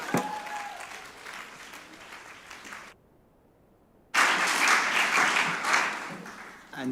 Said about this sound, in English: let's give a big round of applause for Steve Aveers